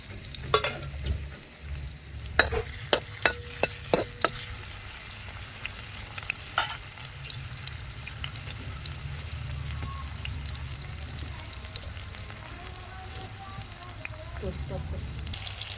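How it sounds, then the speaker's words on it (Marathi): Tomatoes frying in hot peanut oil in a kadhai give a loud, continuous sizzle, opening with a burst of sharp crackles and spits as they hit the oil, then settling into a steady hiss. "तेल तापलेलं आहे. आता टोमॅटो टाकून घेते."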